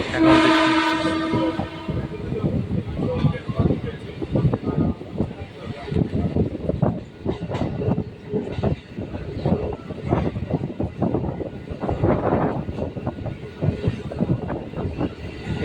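At Howrah station, an arriving train opens with a loud, sustained horn blast, then gives way to a continuous rolling rumble and rhythmic wheel clatter over the tracks, with faint voices in the background.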